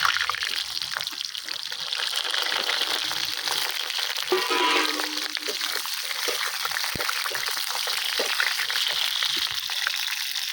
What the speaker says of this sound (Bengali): একটু পটলটাকে ভেজে নিতে হবে।